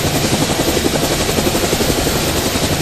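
A helicopter in the video game GameGuru Max takes off with a loud, steady rotor roar and rapid blade chop, continuous and close throughout.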